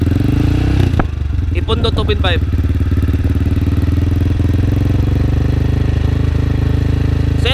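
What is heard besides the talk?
Motorstar Explorer 250 engine with Akrapovic M1 exhaust, 2.5k RPM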